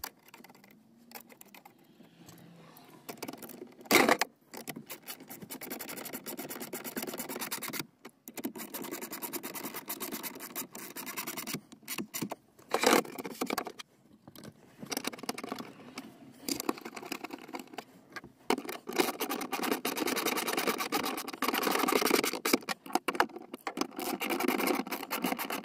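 Screws being driven and a trim panel refitted during a trailer brake controller install in a 2020 Ford F-150 cab, giving intermittent scratchy clicks, taps and scraping handling noises, fairly close and quiet, with no talking.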